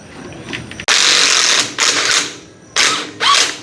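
Loose screws come out of a motorcycle's bar-end throttle assembly during a CNC quick throttle install, heard as a few loud, close bursts of power-driver whirring separated by brief pauses.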